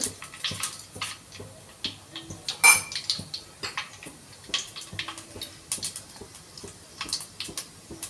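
Mustard and fenugreek seeds crackle and pop in hot oil, irregular sharp spits and sputters scattered over a quiet background.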